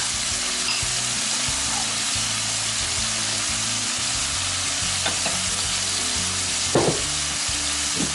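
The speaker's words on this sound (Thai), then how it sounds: "I'm gonna add my favorite shrimp paste with the soybean oil" Shrimp paste fries in soybean oil for a spicy stir-fried shrimp with basil, a dense steady sizzle with rhythmic stirring taps and a louder scrape near the end.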